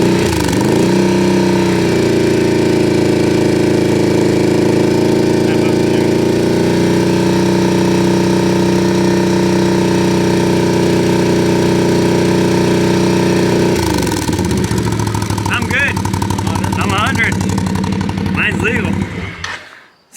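A Can-Am Outlander 850 XMR quad fitted with an HMF Titan QS exhaust runs steadily at a held RPM, loud and close throughout, then the tone shifts as revs change near the end before cutting off.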